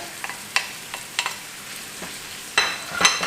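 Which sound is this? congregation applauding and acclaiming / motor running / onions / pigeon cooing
onions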